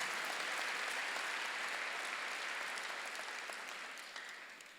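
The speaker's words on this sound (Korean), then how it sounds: "박수를 한번 드세요." A church congregation applauds in a sustained, dense round of clapping that gradually tapers off, heard alone with no speech.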